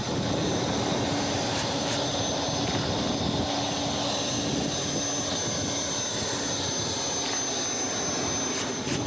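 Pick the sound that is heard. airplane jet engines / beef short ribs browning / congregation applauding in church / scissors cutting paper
airplane jet engines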